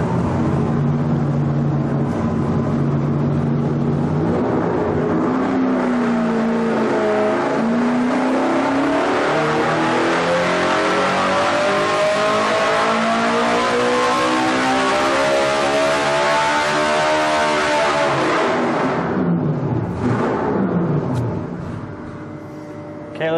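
Race engine revving hard toward 8,100 RPM, its tone climbing steadily for about twenty seconds to a loud, screaming peak, then dropping off sharply as the throttle closes.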